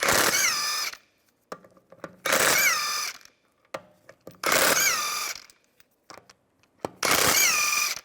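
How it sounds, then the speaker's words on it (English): A ratchet with a 17mm socket loosening wheel lug bolts on a 2004-2010 BMW X3 during a rear coil spring job, giving four long bursts of rapid clicking with short quiet gaps and small taps between them. "Use a 17mm socket to take the lug bolts out."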